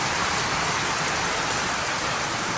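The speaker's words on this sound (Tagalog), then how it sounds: "Ay malakas talaga ang ulan." Heavy rain pours down during flooding in a dense, steady hiss, loud and continuous throughout with no voices.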